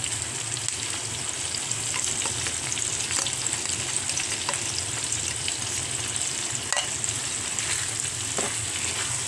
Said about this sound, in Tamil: இப்போ நம்ம சில்லி பேஸ்ட்டை சேர்க்கணும்.